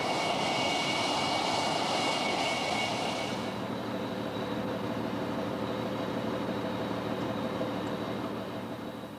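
Loud, steady roar of an English Electric Lightning jet's twin engines, close by, with a high whine that drops away after a few seconds while the deep rumble continues.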